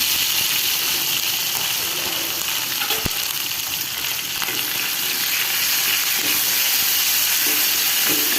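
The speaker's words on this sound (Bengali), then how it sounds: "ভালো মতন একটু কষাই নেব। ভাজা ভাজা আদা রসুনের গন্ধটা যাতে না থাকে।" Ginger-garlic paste with salt sautés in a hot pan, a steady close sizzling hiss running throughout with a sharp stir or scrape near the middle and occasional utensil touches.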